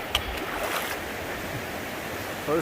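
A mountain creek in the Smokies during a backpacking trip, a steady broadband rush of flowing water close by, continuous and fairly even with a small splash near the end.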